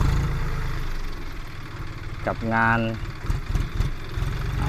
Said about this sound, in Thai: พา มาดูรถไถครับจอนเดียครับเอาใจสายเขียว นะรถไถจอนเดียครับ